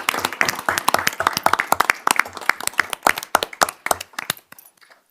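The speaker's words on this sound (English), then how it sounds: "Let's give him another round of applause" Applause rings out for the Arts Commission liaison at a village board meeting in Arlington Heights, Illinois. It is steady, moderately sized clapping from a room of attendees, thinning out and stopping after about five seconds.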